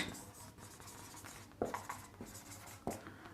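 Writing on a classroom board during a grammar lesson, soft continuous scratching strokes with a few sharper taps, faint and close under a hissy room background.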